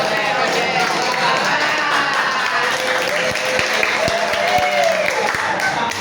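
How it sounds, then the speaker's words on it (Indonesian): A classroom crowd claps under steady noise and voices, with a handful of sharp, distinct claps standing out near the end in a short rhythmic series. "Tepuk satu kali. Yes. Tepuk dua kali. Oke. Tepuk tiga kali"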